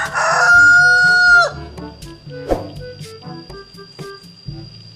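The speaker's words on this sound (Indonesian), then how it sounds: "lihat teman, di sini ada hewan ayam." A rooster crows once loudly and close at the start, its long call held for about a second and a half, followed by scattered clucks and farmyard noise with music in the background.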